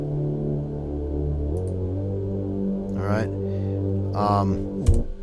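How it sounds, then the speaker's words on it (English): A deep, sustained synth lead drones with rich low harmonics, shifting pitch partway through, with brief warbling electronic flourishes on top. "that was that deep synth or deep lead, hard lead"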